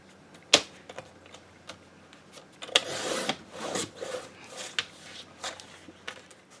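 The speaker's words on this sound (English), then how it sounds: "But first I'm going to cut this piece of paper in half." Scissors cut a sheet of paper in half. There is a sharp snip, then several scratchy rasping strokes spaced irregularly, all quiet and close.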